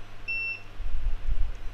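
A multimeter continuity test on a pin of a Lenovo Y560 laptop motherboard gives one short, clear electronic beep near the start, followed by low handling rumble.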